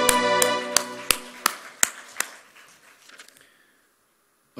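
Congregation in a church service clapping, a series of about eight sharp, evenly spaced claps that fade out over a few seconds, moderately close.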